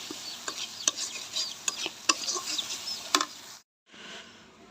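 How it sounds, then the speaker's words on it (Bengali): Ground spices including coriander powder are stirred and sautéed in a pan, with a soft sizzle broken by repeated sharp scraping clicks of a spoon against the pan, then a brief silence before the frying resumes. "সবগুলো মশলা এখন এখানে আমি কষিয়ে নেব"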